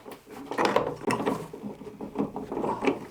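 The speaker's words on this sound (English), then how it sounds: "First, I screw on the connector" Connector being screwed onto the mast of a sailing kayak trimaran with a sliding Günter rig, giving close, steady ratcheting and grinding mechanical turns in short bursts with no talk.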